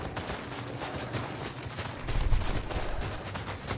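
Rapid bursts of gunfire crackle over dull explosive thumps in the game Star Wars Battlefront, a dense, continuous barrage of battle noise with no voices.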